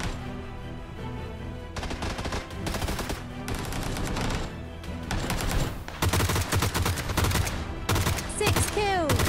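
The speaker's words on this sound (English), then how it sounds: "there's a guy shooting you" Gunfire in a snowy PUBG match against bots: repeated loud bursts and volleys of rifle shots, some close and rapid, others in short clusters, continuing almost without pause throughout.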